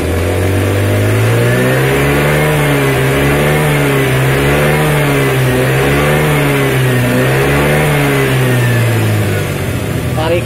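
Engine of an old Honda Vario 110 scooter revving hard and continuously, pitch rising and falling in repeated sweeps, loud and close with no pause.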